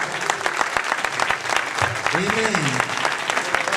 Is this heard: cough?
no